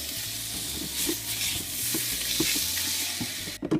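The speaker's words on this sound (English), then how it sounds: "We're going to melt our chocolate and our cream cheese, mix that all together" Melted chocolate and cream cheese stirred in a wok over low heat, giving a soft, continuous sizzle broken by faint, rhythmic scraping strokes.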